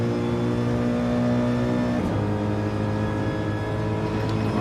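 GT3 race cars at Watkins Glen in a racing video game drone with loud, steady engine tones, one shifting down in pitch partway through as another car's engine holds under it.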